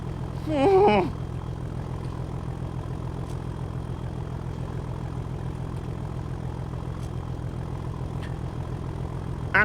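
A Class 37 diesel locomotive running light engine in Train Sim World 2 on a West Cornwall local line, giving a steady low diesel drone throughout, with a brief louder horn-like blast near the start.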